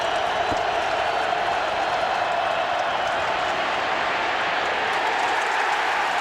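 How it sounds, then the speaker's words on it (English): A packed football stadium crowd roars on third down in the 2007 Tennessee vs. Arkansas game, a dense, loud, sustained wall of cheering and noise with no break. "Listen to the crowd on 3rd down."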